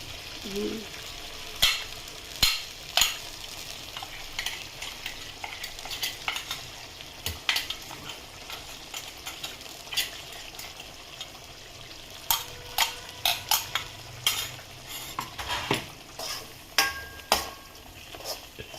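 Dry chilies, coconut and spice mix stirred into a boiling raw-jackfruit-style pickle (haagalakaayi pachchadi) over low flame: steady bubbling sizzle with a spoon scraping the pot, sharp clinks and scrapes scattered throughout.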